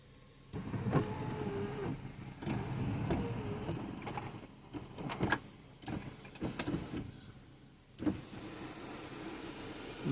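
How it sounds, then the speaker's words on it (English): A BMW's electric window motors raise the glass during a scanner initialization, a steady whirring hum with clicks and thumps as the panels stop and restart, heard close up with no talking. "So the noise you heard, it was raising the panels"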